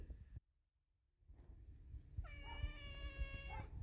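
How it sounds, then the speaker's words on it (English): An abandoned female cat gives a single drawn-out meow near the end, fairly close but quiet, after a stretch of near silence and low household rumble. "This is Tippy, a cat that was abandoned in my yard by a neighbor who didn't want her when he moved out."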